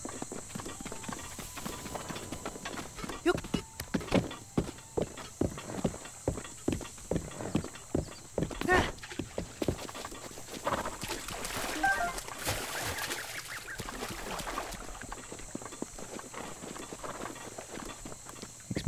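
Horse hooves clip-clop in Zelda: Breath of the Wild, a brisk steady rhythm of close, crisp hoofbeats that carries on for nearly twenty seconds over a faint ambient hiss.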